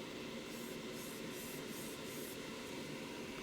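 Short spray bursts hiss onto a sandblasted metal surface, several brief pulses riding over a steady, faint wash of broadband hiss.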